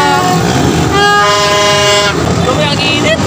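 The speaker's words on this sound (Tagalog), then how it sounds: "May medyo maingay ng busina." Vehicle horns blare in a sustained, overlapping tone over a noisy crowd at a New Year's midnight celebration, loud and close amid constant background commotion.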